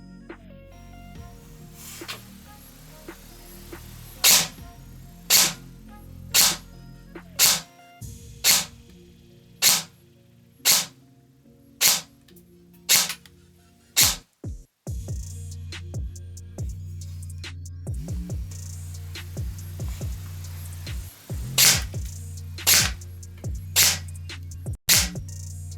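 An E&C SMR 16 airsoft rifle fitted with a Begadi CORE fires about twenty sharp, loud shots through a chronograph at roughly 400 to 420 FPS. The shots come at a steady, evenly spaced pace, with a low hum underneath during the later shots.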